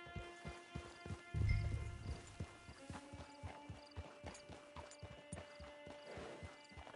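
Video game horse hooves clip-clop in a steady walking rhythm near a camp, with a brief louder thud partway through and a faint whinny, over a quiet background.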